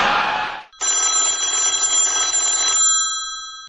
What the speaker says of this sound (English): how do I answer the cell phone?